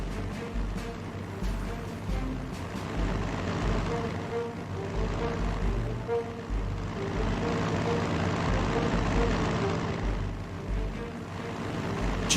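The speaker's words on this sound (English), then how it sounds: "Move the plane aside." A propeller bomber's engine drones steadily in the strategy game Panzer Strategy, a continuous low rumbling hum with a pulsing throb that holds at even loudness throughout, with game music and effects mixed underneath.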